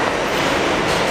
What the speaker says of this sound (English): What train is this? Oh, this is the 4 train.